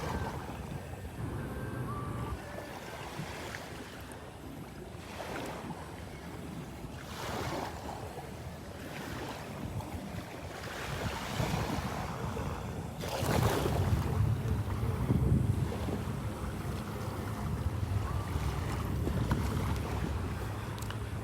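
A boat idling out on the current through Wiggins Pass at Delnor-Wiggins beach, with waves washing ashore and wind buffeting the microphone; a steady low engine rumble under surging surf that swells louder past the midpoint.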